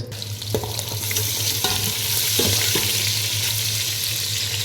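Ginger, green chilli and onions fry in oil with a dense, continuous close sizzle, punctuated by a few sharp clinks and scrapes of a spoon against the pan.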